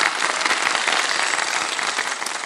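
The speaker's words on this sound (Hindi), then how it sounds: "अवाम के लिए तालियां बजा दें भाई" Studio audience at a televised Ramadan quiz competition breaking into dense, loud, continuous applause, many hands clapping at once with no voices over it.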